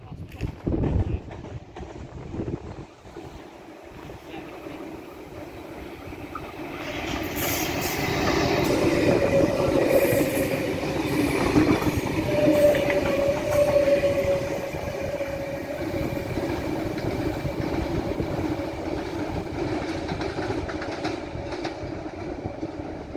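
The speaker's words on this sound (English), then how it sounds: "The next train to arrive on platform 3" A train pulls into platform 3 at a Sydney-area suburban station on the Penrith line, a rising rumble of wheels and carriages growing loud and steady with wind noise and faint squeals, continuing close for a long stretch.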